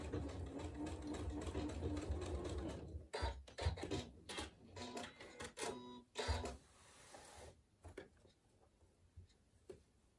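A sewing machine stitches a log cabin table runner, running in quick mechanical bursts of rapid ticking needle strokes with brief pauses between, close and fairly quiet.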